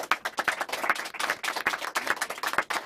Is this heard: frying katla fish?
no